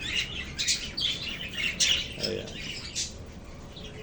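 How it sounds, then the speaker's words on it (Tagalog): An old pigeon with its two chicks gives high chirps and squeaky peeps in quick clusters, close and fairly soft, under a man's brief spoken word. "ito yung pinakamatanda kong kalapate na hanggang ngayon ay nangingitlog pa rin. At ipapakita ko sa inyo yung kanyang dalawang sisiw."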